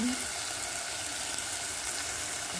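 Ground meat sautéing in a pan for a simple home-cooked miswa noodle dish, a steady broadband sizzle that stays even and fairly loud throughout with no talk.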